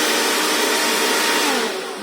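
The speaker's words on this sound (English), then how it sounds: "When we turn on our hairdryer again," A loud, steady whooshing roar of a hair dryer blowing close by, easing off slightly at the very end.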